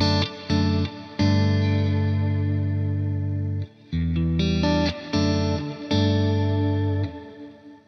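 Guitar played through a Neural DSP Quad Cortex with delay into a shimmer reverb, sustained chords swelling and ringing out with a chorused, lush wash and short breaks between strummed phrases.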